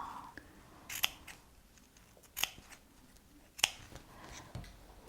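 Scissors snip through felt in a quiet craft setting: three sharp, distinct cuts spaced about a second and a half apart, close and crisp over faint background noise.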